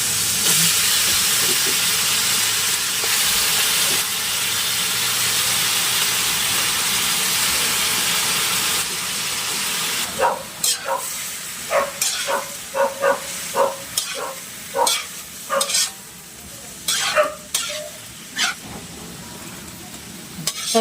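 Cabbage being stir-fried in a pan with soy sauce, onion, garlic and pepper for ginisang repolyo: a steady loud sizzle that later breaks into repeated bursts of scraping and tossing of the vegetables, close up and with no talking.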